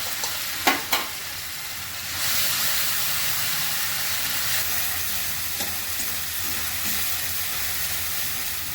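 Spices for masala okra hit hot oil with a couple of sharp clatters, then a steady loud sizzle and hiss from the pan, with no one talking.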